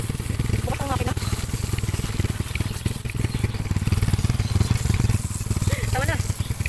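A motorcycle engine runs with a steady, pulsing idle while the bike is being cleaned in rainy-season wet conditions. People talk over the engine throughout.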